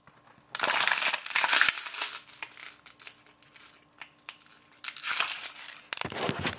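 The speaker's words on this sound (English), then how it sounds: "I always mash up my water bottles so that I can put them in plastic bags in my room" Plastic water bottles crushed by hand, loud crackling crunches in several bursts with quieter crinkling between, close up and without talk.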